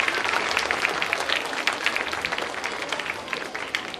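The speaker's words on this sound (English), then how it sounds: "Let's give them one more big round of applause" Audience applause fills a Hindu temple celebration in Saint Louis after a performance by the Bhalasisha girls, a dense, steady patter of many hands clapping at once that holds at an even level throughout.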